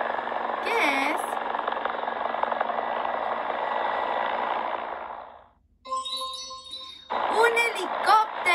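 A helicopter's steady, droning rotor and engine roar holds for about five seconds before fading out, with a brief voice over it early on and speech following afterward.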